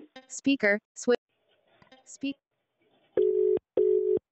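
An Airtel missed call rings out over a phone's speakerphone as two long, even buzzing ringback pulses after someone speaks briefly.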